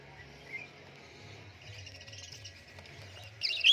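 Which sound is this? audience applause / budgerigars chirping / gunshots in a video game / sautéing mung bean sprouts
budgerigars chirping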